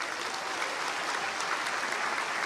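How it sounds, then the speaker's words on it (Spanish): Steady, dense applause from a church congregation at a Christian sermon, even and sustained throughout with no talking over it. "Un aplauso al Señor"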